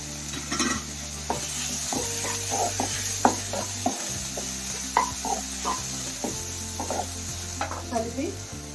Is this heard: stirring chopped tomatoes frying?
yes